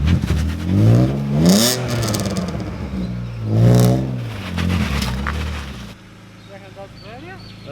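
A budget drift car revs hard during a burnout, with two loud rising and falling engine surges, then a lower idle with wheel chatter, while voices talk over it.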